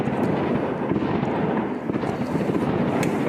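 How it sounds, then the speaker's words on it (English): Fireworks explode on Christmas night in Romania: a dense, continuous crackle and rumble of many overlapping bangs, loud and distant-sounding, with occasional sharper pops standing out. "Fireworks, apparently"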